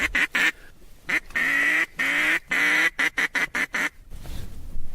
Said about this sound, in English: we got ducks coming in